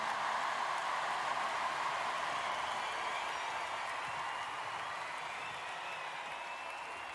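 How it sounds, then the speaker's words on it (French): A church congregation applauds its choir during a meditation service: dense, steady clapping from many hands that holds evenly throughout and eases slightly toward the end, with no voices over it. "je vous demande d'applaudir la chorale qui a travaillé depuis plusieurs semaines"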